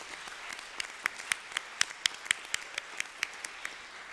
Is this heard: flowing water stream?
no